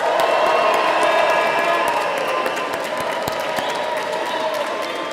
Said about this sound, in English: please whoop, cheer, clap, and thank everyone who's been supporting you during your time at Kent.